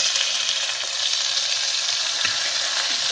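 Steady, loud sizzling of garlic-ginger paste frying in hot oil, a continuous hiss with faint crackles and pops throughout.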